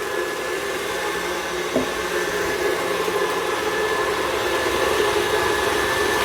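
An electric mixer whips chocolate chip cookie dough to a light, fluffy texture, giving a steady, even motor whir that holds close and constant with no talk over it.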